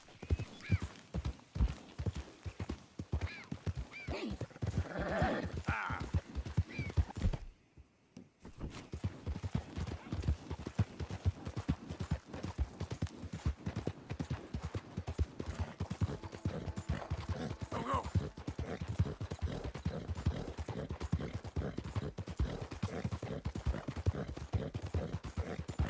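Horse hooves gallop in Red Dead Redemption 2, a fast, steady clip-clop rhythm carrying through the whole stretch, with a brief whinny and a short near-silent break early on.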